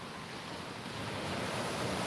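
Waves wash onto the shore of Moreton Bay, a steady broadband rush that swells slightly louder over two seconds, with some wind noise and no talking.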